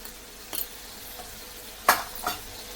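Onion and tomato being sautéed with asafoetida, chili powder and turmeric in a pan: three brief scraping stirs stand out over a quiet background, with a faint low sizzle between them.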